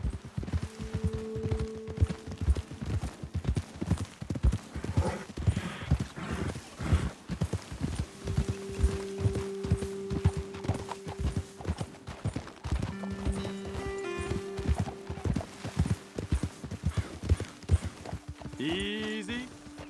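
Horse hooves clip-clop in a steady walking rhythm in the Western video game Red Dead Redemption, up close and fairly loud, with voices talking and soft musical tones over the hoofbeats.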